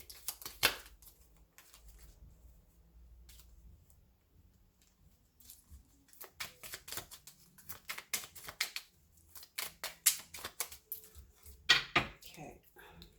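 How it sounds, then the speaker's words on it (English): Tarot cards are shuffled in quick bursts of crisp riffling and flicking, close and fairly soft, with brief pauses between bursts. "Let's just shuffle here."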